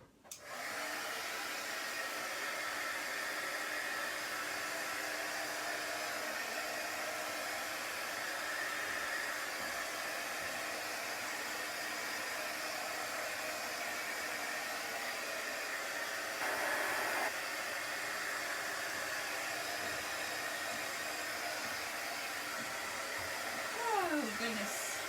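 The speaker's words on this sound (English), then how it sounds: "Now let's blow dry it, which will probably darken it a little bit." A hair dryer blows steadily on chalk paste spread across a sign, a loud continuous whooshing roar held for the full stretch with only slight shifts in tone.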